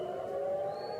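Air raid sirens wail in Israel during an Iranian missile attack, a steady droning tone with a higher pitch rising in partway, sounding distant and unbroken.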